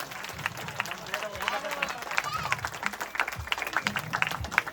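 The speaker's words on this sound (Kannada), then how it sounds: "ಎಲ್ಲ ಜೋರಾಗಿ ಒಂದು ಚಪ್ಪಾಳೆ ಕೊಟ್ಬಿಟ್ಟು ಅವರಿಗೆ ಪ್ರೋತ್ಸಾಹವನ್ನು ಕೊಡಿ" An audience applauds after a comic stage play, with a dense, steady wash of clapping and crowd noise throughout and no break.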